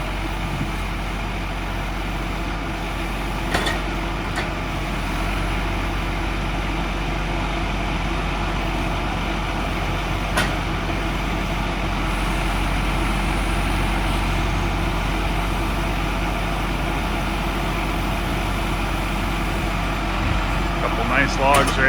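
Log truck idling in a woodyard, a steady low diesel rumble running continuously at moderate distance, with a few faint clanks and ticks on top.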